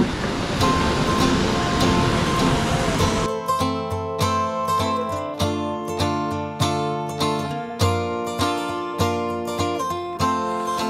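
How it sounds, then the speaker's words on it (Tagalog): Powerful water rushes through Santa Barbara Dam in a loud, hissing roar for a few seconds, then gives way to plucked, rhythmic music that carries on alone. "Malakas yung agos ng tubig."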